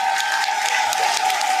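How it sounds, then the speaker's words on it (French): A packed hall audience in Paris applauds for a speaker in a steady, dense wash of clapping and crowd noise that stays loud and even throughout, with a faint steady tone running underneath. "Je voudrais qu'on applaudisse très fort Gagny Sely"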